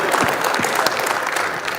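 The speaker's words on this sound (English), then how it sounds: "Oh, and applause." Applause from an audience at a 2016 university discussion panel, steady clapping across the whole clip with a few sharper individual claps standing out, fairly close and full.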